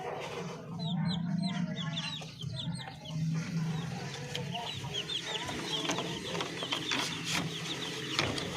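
Native Darag and white Parawakan chickens cluck and call in a farm yard, a steady mix of close clucks over a murmur of other birds and faint background noise.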